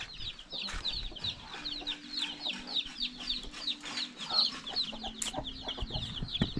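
Chickens cluck steadily inside a backyard chicken coop on a small farm, with repeated close clucks and occasional higher calls that run throughout, joined by a low steady hum.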